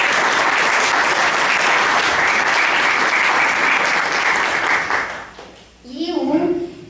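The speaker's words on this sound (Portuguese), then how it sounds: "Uma salva de palmas para ele." Sustained, loud audience applause welcoming a guest at a Brazilian televised political discussion, dense clapping that fades out near the end, followed by a brief voice.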